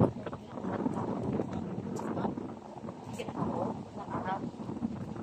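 Gusty wind buffets the microphone in a constant rough roar while people talk over it.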